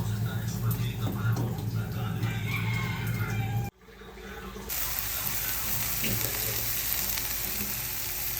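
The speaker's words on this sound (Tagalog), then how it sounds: "magluluto nga ng ginisang ampalaya" Bitter gourd (ampalaya) sautéing in a pan for ginisang ampalaya, a steady sizzle that cuts out briefly midway and then resumes, with a voice talking at times.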